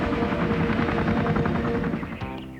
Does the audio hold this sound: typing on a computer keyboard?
no